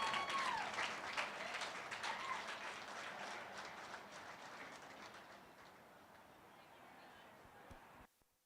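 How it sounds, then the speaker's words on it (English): Applause and cheering from a crowd at a livestock show ring crowning a supreme ram champion, a steady dense clatter of clapping that slowly thins out and then stops abruptly. "Let's give the young lady on the end a big round of applause"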